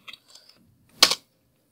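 A few faint, light key taps and then a short, louder burst of clatter on a computer keyboard, close and dry with no voice.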